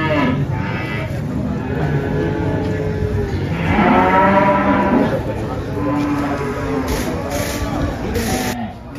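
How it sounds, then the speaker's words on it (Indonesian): Limousin cattle mooing at a busy livestock market selling sacrificial animals, long low moos rising above a noisy crowd, with people talking throughout. "Ini sapinya jenisnya Limousin."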